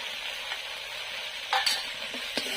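Spices with salt and turmeric fry and are stirred in a pan for a stuffed pointed gourd (potol dorma) with fish roe: a faint, steady sizzle broken by a few brief scraping stirs near the end.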